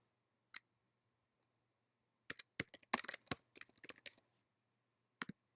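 Typing on a computer keyboard: a single click, then a quick flurry of soft keystrokes and one more tap, faint and close in an otherwise quiet room.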